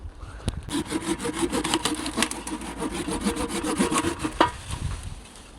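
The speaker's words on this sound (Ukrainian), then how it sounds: "Буду брати пилку і зараз різати." A hand saw rasps back and forth through tree branches in quick, steady strokes, close and fairly loud, stopping near the end.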